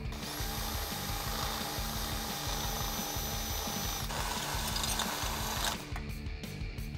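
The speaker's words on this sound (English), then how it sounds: "we can go ahead and drill that pilot hole out" A drill with a step bit bores a pilot hole through a Jeep Wrangler JK door, a loud, steady whirring grind that runs continuously for several seconds before cutting off abruptly near the end.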